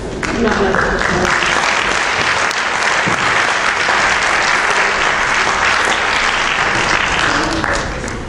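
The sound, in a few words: audience applause at ceremony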